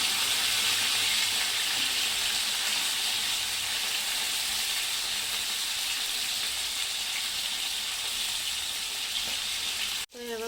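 Halwa fish fries in a pan with a loud, dense, unbroken crackling sizzle held close up, then a sudden short break near the end as the fish is flipped before the frying resumes.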